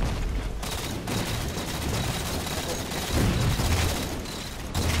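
Halo 4 multiplayer gunfire on the Genesis map: a dense, continuous barrage of shots and booms from weapons including a rocket launcher, loud throughout with a heavier blast near the end.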